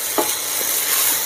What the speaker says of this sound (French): on mélange aussi un petit peu là que nos lentilles s'enrobent un peu de la matière grasse